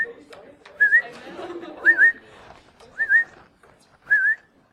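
Four short rising whistle chirps repeat about once a second, standing out clearly over a murmur of background talk and room noise.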